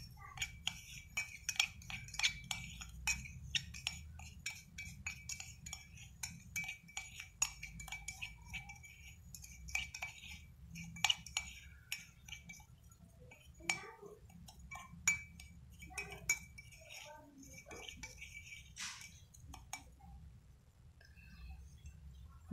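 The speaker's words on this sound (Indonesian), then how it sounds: "Kemudian kita aduk sampai rata." A spoon clinks rapidly and repeatedly against a glass while stirring dalgona coffee, a close, light tinkling that runs on for about twenty seconds and then stops.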